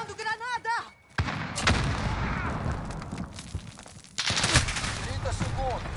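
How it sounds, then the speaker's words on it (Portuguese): Call of Duty Warzone combat erupts with a loud grenade-like blast and bursts of gunfire, sharp booms cutting through a busy battle mix, while a voice speaks early on. "Jogando granada!"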